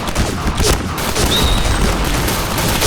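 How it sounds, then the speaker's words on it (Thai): Dense, continuous gunfire and bursts in the Point Blank shooter, loud and close throughout a headshot-only match, with scattered impacts layered over a steady roar of shots. "ยิงขนาดนี้ระยะขนาดนี้ยังไม่ตายนะครับ"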